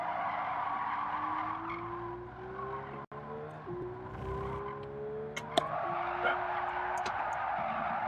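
Engine of an electric sports car in a racing video game, holding steady rising tones under sustained tire skidding that swells near the end, close and continuous with no talk.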